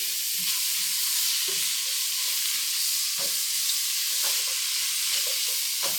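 Nopal cactus curry stirred and frying in a pan, a steady sizzle with repeated soft scraping strokes of the spoon, close and continuous.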